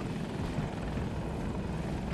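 A helicopter flies in a video game, a steady dense rotor and engine roar filling the whole stretch at constant loudness, with no clear approach or fade.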